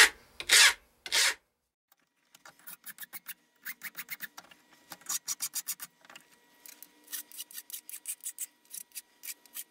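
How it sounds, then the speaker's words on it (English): Coarse file rasping metal into rough shape for a tripod bubble level, heard as a couple of long strokes followed by runs of short, quick scraping strokes in close succession, close and fairly loud, with no talking. "So I'm going to take a fairly coarse file to begin with to get it to the rough shape."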